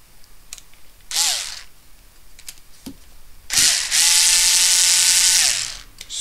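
A cordless power driver with the torque turned up backs a screw out of a motor cover, giving two loud bursts of whirring and ratcheting: a short one first, then a longer steady run of about two seconds, close by with no talking.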